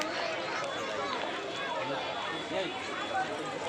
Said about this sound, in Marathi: बघा गाईस किती गर्दी आहे.